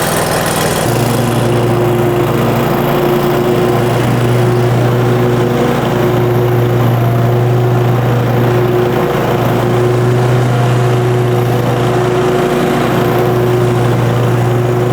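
Scag V-Ride 2 stand-on lawn mower engine catching and then running at a steady, loud drone with a slight throttle change, close by with no talk.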